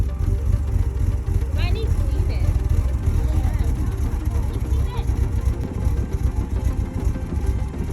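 An engine left idling at a building inspection, a steady low rumble running throughout with a few brief squeaks on top, heard close and continuous without a break.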